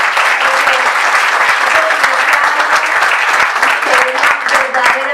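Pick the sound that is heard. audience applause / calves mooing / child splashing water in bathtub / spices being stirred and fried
audience applause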